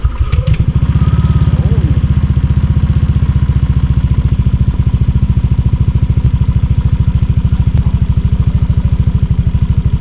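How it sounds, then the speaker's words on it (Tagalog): A motorcycle cold-starts and settles into a loud, steady, close-up idle with an even, rapid firing beat that runs throughout, with some light clatter on top. "Cold start na natin yung motor natin."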